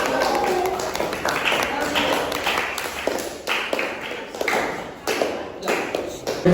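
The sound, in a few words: applause for group number 1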